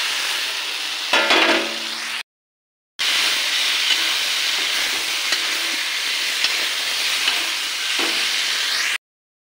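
Tomatoes and other vegetables sizzle and fry in a pan of turmeric-spiced water, a steady close hiss that cuts out briefly before resuming.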